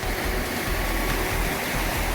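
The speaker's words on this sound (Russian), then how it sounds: "А здесь река Телеты впадает в реку Каракол." Loud, steady rushing roar of the Teleti river pouring into the Karakol river in the Tian Shan mountains of Kyrgyzstan, a dense continuous wash of water noise heard close by with no voices.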